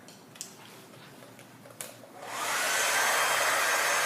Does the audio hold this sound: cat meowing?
no